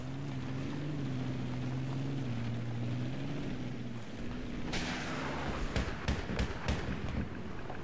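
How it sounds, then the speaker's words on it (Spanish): In Battlefield 3, a tank rolls past with a steady, droning engine rumble that fades, followed by a series of sharp, loud bangs and cracks of battle nearby. "Espérate que pase el tanque."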